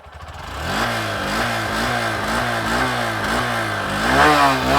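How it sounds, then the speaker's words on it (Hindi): A Honda SP 125 125cc motorcycle engine runs with a smooth, steady hum after starting and rises slightly in pitch and loudness near the end. The engine is close and there is no talking. "होंडा का तो काफ़ी इंजन साइलेंट होता है"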